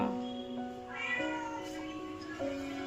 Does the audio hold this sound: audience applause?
no